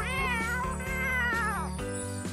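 A cat gives long, wavering meows, close and clear, over steady background music with no talking.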